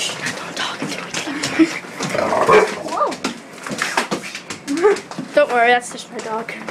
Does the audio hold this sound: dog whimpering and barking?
yes